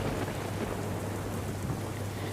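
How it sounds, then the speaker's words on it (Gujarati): Heavy monsoon downpour in Gir Somnath, where flooded rivers surge, makes a dense, continuous roar of rain with a low rumble underneath, steady and fairly loud throughout with no voices. "ધોધમાર વરસાદથી નદીમાં ઘોડાપૂર"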